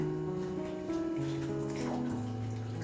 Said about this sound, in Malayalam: ലിറ്ററുള്ള ജ്യൂസ് ഇതിനകത്തേക്ക് ഒഴിക്കുവാണേ